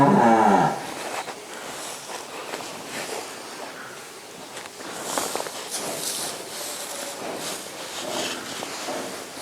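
Cattle low and moo in a barn in winter, with shuffling hooves and rustling wheat straw, one loud call at the start then quieter movement.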